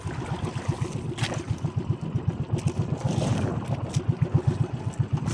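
A boat engine near a pier chugs in a rapid, even rhythm of low thumps, close and moderately loud, with faint background activity.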